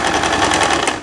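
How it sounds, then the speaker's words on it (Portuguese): A sewing machine runs at speed, topstitching a long winter blazer: a loud, close, continuous needle whir with a fast even rattle and no voice over it. "fazer o pesponto é nada mais do que passar uma costura por cima"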